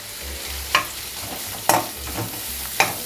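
Chopped onion and green chillies sizzling in a hot pan, with a few sharp scraping stirs of a spoon cutting through the steady frying hiss, close and fairly loud.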